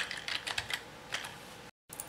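Quick, light keystrokes on a computer keyboard, heard close and alone in uneven bursts with short pauses, used alongside a mouse while setting up an Android phone.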